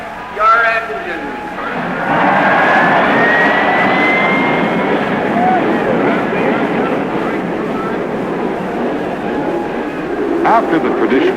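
The turbine engine of the 1967 STP turbine race car spools up into a loud, steady whine and roar that fills the clip after a brief voice at the start.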